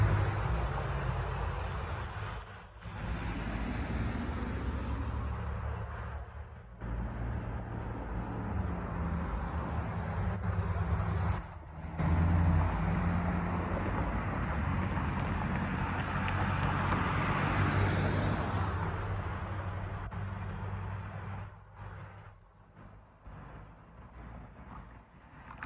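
Steady roadway traffic at the Alondra Blvd and Alameda St signal in Compton, with westbound vehicles stopping and turning left; a continuous broad wash of passing engines and tire noise, with a few louder swells and brief lulls, no one talking.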